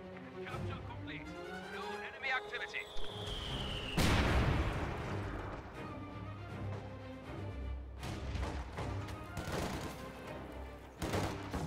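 Mortar shells and gunfire in a World War II-style strategy game battle, with a sharp booming impact followed by scattered blasts and crackling shots, under a continuous narrating voice.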